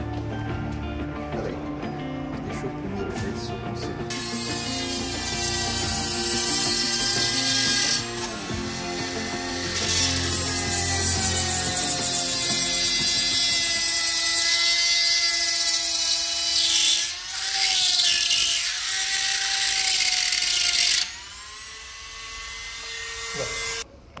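Micro-retífica rotary tool running under test, a steady high-pitched motor whine that stays loud and continuous with shifting pitch as speed changes, then drops off near the end.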